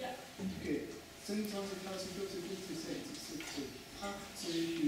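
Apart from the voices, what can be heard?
No distinct noise like a dog, phone or traffic.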